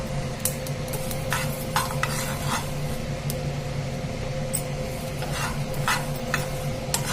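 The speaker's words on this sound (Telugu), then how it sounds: "చూడండి ఇవైతే మంచిగా స్టవ్ చిన్నగా పెట్టుకొని వేయించుకోవాలి అట్లయితేనే మంచిగా ఫ్రై అవుతాయి" Flax seeds dry-roasting in a pan over a low flame, a continuous gritty rustle of seeds being stirred with repeated scraping strokes and a low background hum, close and steady, with no voices.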